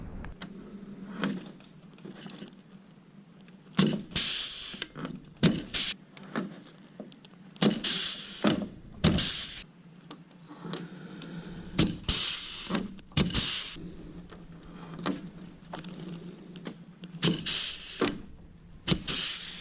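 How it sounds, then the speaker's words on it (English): An air rivet gun setting rivets on brackets for a plastic rear seat delete in a Subaru Impreza GC8 STI coupe, heard as sharp hissing pneumatic bursts repeated at irregular intervals, close and loud over a quiet background. "I'm gonna rivet those on with this air rivet gun."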